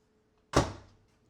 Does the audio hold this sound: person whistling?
no